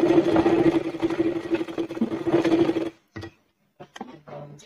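A sewing machine stitches fabric for a shopping bag in a steady, close mechanical whir that runs for about three seconds and then stops. A few soft clicks and handling sounds follow.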